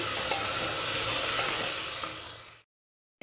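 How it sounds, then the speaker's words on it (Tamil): Vegetables sauté in a pot for one-pot biryani, giving off a steady, close sizzling hiss with faint stirring that cuts off abruptly into silence. "நல்லா வதக்கணும்."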